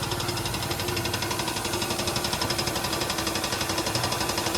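Tractor 855 diesel engine running steadily close by, a continuous loud rhythmic chugging and knocking with no pauses throughout.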